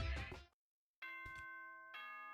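Danganronpa's ding-dong announcement chime, a clear two-part bell tone that rings and sustains after a brief burst of sound and a short silence.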